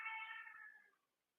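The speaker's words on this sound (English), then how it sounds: "that cat. She's got the worst meow." A house cat lets out a single drawn-out, nasal meow that starts fairly close and tails off into quiet within about a second.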